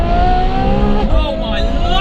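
Ferrari F12 fitted with an IP exhaust, its engine note loud and sustained with a rich, steady growl that shifts pitch slightly partway through, close to the microphone.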